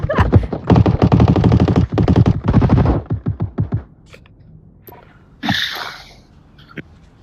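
Rapid bursts of gunfire from a pistol in the VR shooter game Onward, dense automatic-sounding volleys for about three seconds, then a few spaced single shots and a sharp burst of noise later, loud and close.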